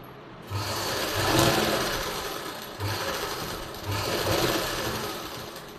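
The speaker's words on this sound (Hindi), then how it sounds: "और यहाँ कमर तक हम इसको सिलाई को लगा लेंगे इस तरह से।" A sewing machine stitches the lining of a blouse in steady close-up bursts of rapid mechanical chatter, running in several runs with brief pauses between them.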